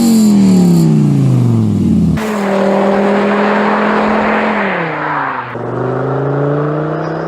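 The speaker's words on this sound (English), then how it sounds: "enjoy the sound symphony of 5 cylinders." A five-cylinder car engine revs loudly through several rising pulls, with gear changes between them and a steady harmonic growl close by.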